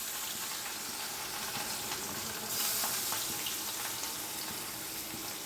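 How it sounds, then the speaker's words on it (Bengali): Fish pieces fry in a pan of oil for a two-fish curry, giving a soft, even sizzling hiss that swells slightly midway and stays fairly quiet throughout, with no speech. "মাছ ভাজবো মাছের ঝোলের জন্য।"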